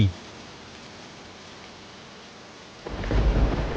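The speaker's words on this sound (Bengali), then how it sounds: "এই বাইরে তো অনেক বৃষ্টি হচ্ছে।" Rain falling outside, with a low rumble of thunder swelling near the end, in a cartoon sound effect; the rain is steady and soft at first, then the thunder roll builds loud.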